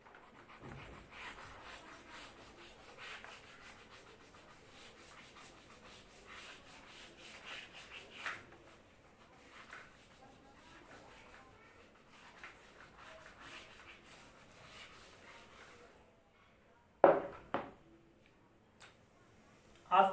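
A classroom board is rubbed clean, making soft repeated swishing strokes at low level, then a few sharper knocks near the end.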